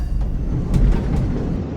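A diesel-electric locomotive train on the Kollam to Sengottai line, its diesel engine generating power for electric traction motors, runs with a steady, heavy low rumble and broadband rolling noise, close and continuous, with no talking.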